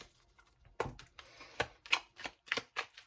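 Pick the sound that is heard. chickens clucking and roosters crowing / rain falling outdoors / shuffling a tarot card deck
shuffling a tarot card deck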